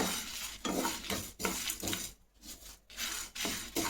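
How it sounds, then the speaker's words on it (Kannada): Coriander seeds and a few black peppercorns dry roasting in a pan, stirred with repeated scraping, rattling strokes in a steady rhythm with brief pauses, close and clear with no talk. "ಇದನ್ನೆಲ್ಲ ಚೆನ್ನಾಗಿ ಹುರ್ಕೊಬೇಕು."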